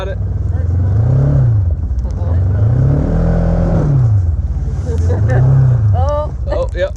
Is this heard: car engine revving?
yes